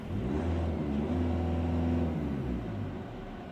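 A 2017 Volkswagen T-Roc TDI 4Motion diesel engine runs at raised revs near its 2,500 RPM limiter, holding a steady hum before easing back down near the end.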